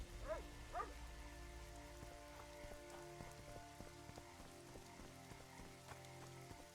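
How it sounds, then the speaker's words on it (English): Rain patters steadily in The Witcher 2: Assassins of Kings, a soft continuous hiss of drops on surfaces with faint low ambient hum, quiet and even throughout. "It's raining."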